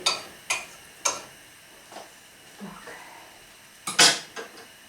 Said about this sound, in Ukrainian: Посуду зараз дівчата помоються.